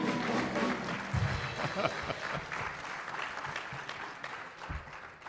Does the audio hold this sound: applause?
yes